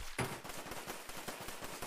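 Rapid automatic gunfire from a first-person shooter video game, a dense run of sharp shots at a fast steady rhythm with one louder burst near the start, close and continuous throughout.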